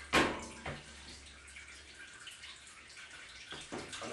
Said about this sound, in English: I'm going to let that drain a little bit.